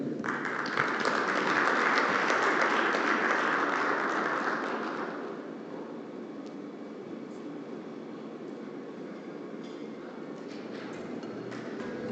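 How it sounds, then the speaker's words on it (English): Conference audience at a high-level energy seminar in South Africa applauds a minister walking on stage; a broad wash of clapping swells for about five seconds, then fades into a lower murmur of room noise. "help me welcome on stage with a warm applause the Acting Minister of Electricity and Energy of South Africa, Minister Patricia de Lille"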